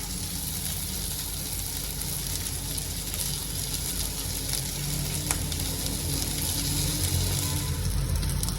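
Beet cutlets shallow frying in hot oil over high heat give off a steady, even sizzle that runs continuously at moderate volume, with faint small crackles scattered through it.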